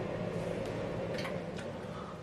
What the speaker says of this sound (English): Sorry about that noise, that was just the fan